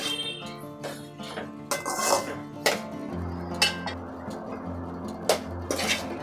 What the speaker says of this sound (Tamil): இப்போ இந்த வெண்டைக்காயில் இருக்கிற அந்த ஈரப்பசை போகிற வரைக்கும் நல்லா வதக்கிக்கலாம்.